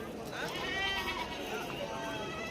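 Goats and sheep bleat among the crowd at a busy livestock market in Shirur taluka, Pune district, Maharashtra, with a few calls rising over steady chatter from people nearby.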